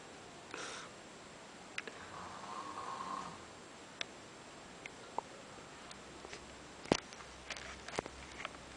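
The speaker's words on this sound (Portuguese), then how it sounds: "tu ronca pra caralho" A sleeping woman snoring softly in a quiet room, a faint breathy snore early on followed by scattered small ticks and clicks, with no talking.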